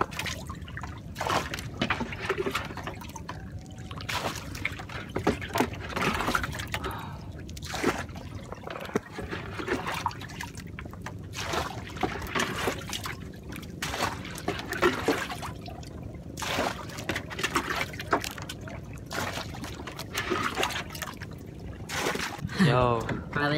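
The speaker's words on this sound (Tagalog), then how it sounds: "So, lilimasin ko na po itong bangka kasi puro tubig na po." Water is scooped and poured out of a small fishing boat at sea, splashing and trickling in irregular bursts, fairly faint, with someone talking at times over the sloshing.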